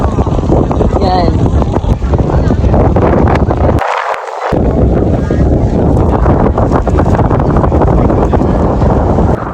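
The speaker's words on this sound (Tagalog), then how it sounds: "Dito na nga sumakit yung ulo ko kasi sobrang lakas ng hangin." Strong wind at an international kite festival in Hsinchu roars and buffets the microphone loudly and almost without a break, briefly easing near the middle, with a voice talking faintly underneath.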